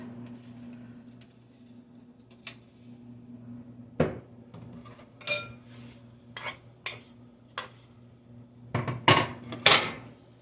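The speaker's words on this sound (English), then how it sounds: "I take my potatoes and I just take them off of here and spread them around" Hash brown potatoes spread around a pan with a utensil, heard as scattered close scrapes and clinks over a low steady hum, growing busier and louder near the end, with no speech.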